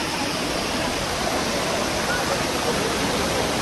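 The Lihonjar waterfall at a picnic spot gives a steady, loud, broadband rush of falling water that holds evenly throughout without a break.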